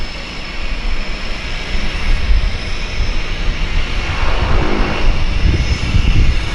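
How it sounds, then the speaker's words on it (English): A floatplane engine roars up to power in Vancouver's downtown harbour, a loud, steady propeller drone that swells gradually over several seconds, heard close with no talking. "this airplane's also low in the floats there"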